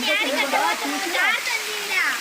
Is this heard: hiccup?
no